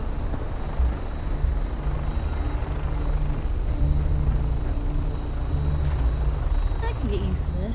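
Steady droning engine and rotor noise from a vertibird aircraft in flight in the video game Fallout 4, loud and continuous beneath a talking voice.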